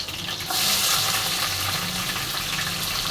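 Cubed potatoes go into browned onions in a pan and fry with a steady hiss. A short clatter opens the sound, then the sizzle swells and holds close and fairly loud, with no voices.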